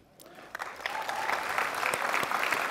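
Audience applause at a secondary school awards ceremony rises from scattered claps into steady, full clapping from a large crowd indoors.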